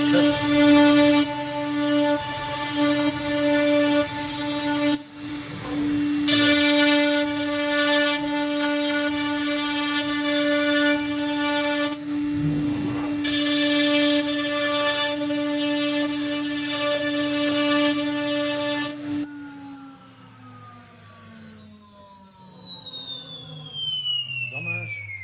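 A Duzzit CNC machine cuts domino and lamello joint fittings, its spindle whining steadily with strong tonal harmonics for about twenty seconds under light background talk, then winding down in a falling pitch as it stops.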